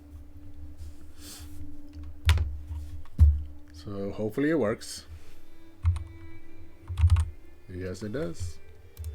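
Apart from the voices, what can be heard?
typing on a computer keyboard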